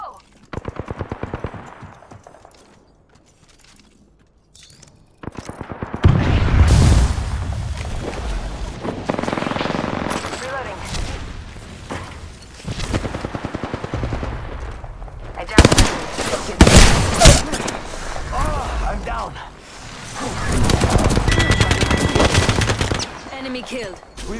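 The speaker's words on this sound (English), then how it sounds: "They're shooting at me." Apex Legends gunfire in repeated automatic bursts and single shots, loud and close, coming in clusters over about twenty seconds with a quieter lull near the start, with voices talking over parts of the action.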